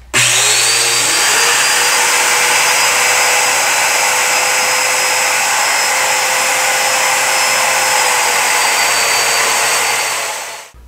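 A domino joiner cuts slots into wooden dining table legs, a loud steady high-pitched motor whine with a sweeping tone running continuously for about ten seconds, close and alone.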